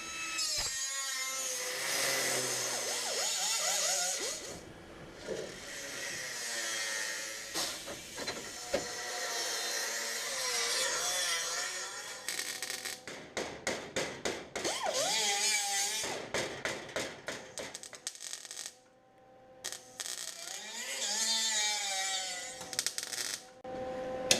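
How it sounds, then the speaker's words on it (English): A cutter slices out a section of the lower chassis on a Sport Quattro replica build, a harsh hissing, grinding roar running in long stretches with rapid stuttering bursts and brief pauses, loud and close. "So let me go get the cutter and blast it out."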